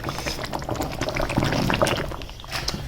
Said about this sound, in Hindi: मेरे पास ये 100 ग्राम दही है, इसको मैंने अच्छी तरह फेंट लिया। अब ये इसके अंदर ऐड कर देंगे